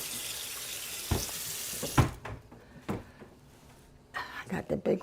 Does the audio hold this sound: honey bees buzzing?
no